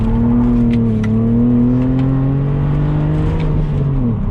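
BMW Z4 on Michelin tyres pulling hard in second gear, a loud, close engine drone climbing steadily in pitch and holding strong throughout, with no talk.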